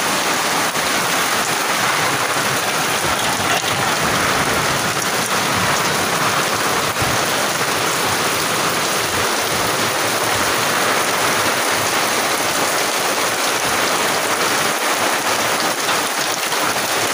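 A heavy village downpour roars steadily without a break, full and close, with deep low rumbles under the rain and no voices.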